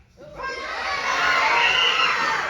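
A theme park crowd at a Halloween horror event lets out a sustained, loud collective scream that swells quickly and holds at full volume, close and dense.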